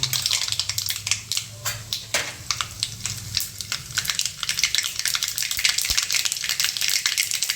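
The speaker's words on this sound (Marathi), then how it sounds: "आता आपण सगळ्यात पहिले तेल तापले मोहरी टाकून घेऊयात" Mustard seeds crackling and popping in hot oil, a dense continuous sizzle with rapid sharp spatters, close and fairly loud throughout.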